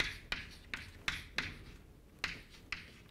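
Chalk or marker strokes on a board during a physics lecture, a series of crisp taps and short scratchy strokes in an irregular rhythm, close and clear, with no talking.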